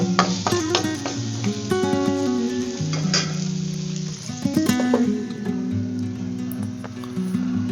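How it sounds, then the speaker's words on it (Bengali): Potatoes and spices fry in a pan with a continuous close sizzle and occasional stirring scrapes, heard under steady tonal background music. "এগুলাকে ভালো করে ভেজে নিতে হবে"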